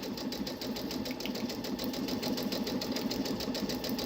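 Brother SE 625 sewing machine stitching fabric, a steady fast rhythmic mechanical whir and ticking at close range, running continuously and evenly without any talking.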